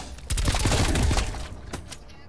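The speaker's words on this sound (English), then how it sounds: "I'm getting shot at." A burst of gunfire aimed at the player in Call of Duty: Black Ops Cold War erupts fairly close, a dense clatter of shots for about a second before tailing off into a few sharp cracks.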